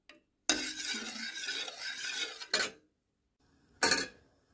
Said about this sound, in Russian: Подогреваем наш агар-агар, помешивая постоянно до прозрачности.